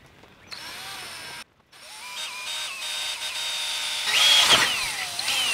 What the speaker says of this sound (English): So let's drill that point.